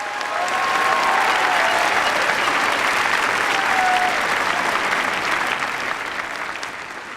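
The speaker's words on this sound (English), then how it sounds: "How about a big round of applause for our faculty?" Sustained audience applause at a high school graduation ceremony, a thick, even roar of many hands that holds steady and then gradually tapers off toward the end.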